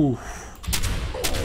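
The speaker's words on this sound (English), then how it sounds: "Don't you shoot the fucking missile launcher, dude!" Missile launcher firing in the Fallout 76 video game, with a loud blast partway through and a second burst near the end, over game background noise.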